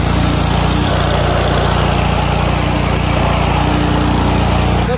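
A 3,300 PSI gas power washer runs at full throttle while spraying down a Ferrari, giving a loud, unbroken engine drone under a dense hiss of water spray.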